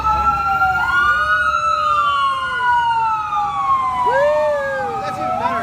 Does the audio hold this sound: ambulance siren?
yes